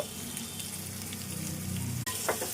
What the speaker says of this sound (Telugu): ఇది కొద్దిసేపు ఇలా వేపుకుందాము. కారం వేసుకుందాము.